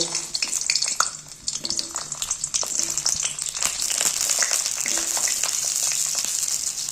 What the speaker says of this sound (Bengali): সবার ফার্স্ট এই যে বেগুনগুলো আগে ভেজে নেব।